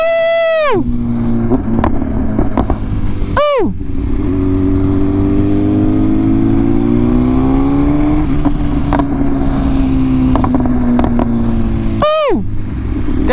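A 2023 BMW S1000RR motorcycle engine, loud and close, with sharp revs that rise and drop quickly near the start, middle and end, and a droning ride between them as the pitch climbs slowly.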